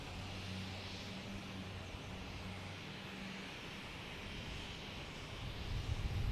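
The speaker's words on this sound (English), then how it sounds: "Right next to arrive, we have American Airlines and A319, flight 1421, coming in from Reagan." American Airlines Airbus A319 airliner arriving at Boston Logan Airport, a faint distant jet rumble with a steady low drone that swells slightly louder toward the end.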